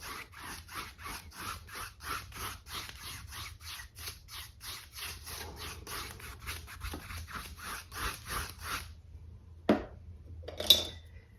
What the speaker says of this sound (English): I'm just gonna gently just scrub off a little bit of that paint for where I want my sun to be